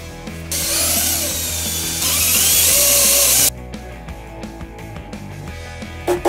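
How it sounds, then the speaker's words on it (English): A power sander works over an assembled wooden table with a loud, steady whir that runs for several seconds and then stops, leaving scattered quieter rubbing and clatter. "now that our table is put together, we can do our final coat of sanding"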